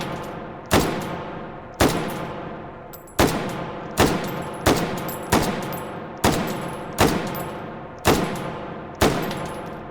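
AR10 rifle firing ten loud single shots at a steady, fairly even pace, each sharp crack followed by a decaying echo across the range, no talking.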